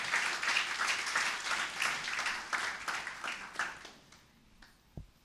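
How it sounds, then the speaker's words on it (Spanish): A church congregation gives a hearty round of applause, with dense, rhythmic clapping from many hands that gradually thins and fades, ending with a single soft thump. "Yo creo que es tiempo de darle un fuerte aplauso al Señor."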